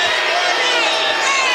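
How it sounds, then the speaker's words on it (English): Home fans in a college basketball arena, Boise State against Colorado State, roar in a loud, sustained wash of crowd noise after a foul call, steady and dense throughout without clear individual voices. "The home crowd doesn't like it"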